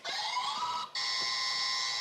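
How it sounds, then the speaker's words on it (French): A quiz show buzzer sounds in two sustained electronic tones separated by a brief gap, loud and steady with no voices. "Actionne le buzzer"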